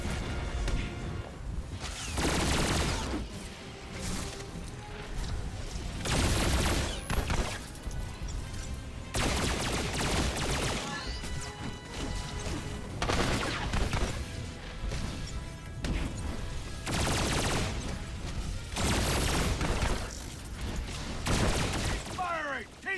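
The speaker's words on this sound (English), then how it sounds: "gotta watch out, the rockets are getting ready to fire" Rockets fire in Star Wars: The Old Republic, with repeated heavy blasts and crashing volleys arriving every few seconds over a continuous rumble of game combat.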